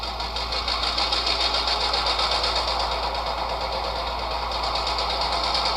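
A HO-scale model locomotive sound decoder plays a diesel engine loop through a small iPhone speaker, a steady, buzzing, slightly tinny drone with a fine rapid pulse, constant in level throughout.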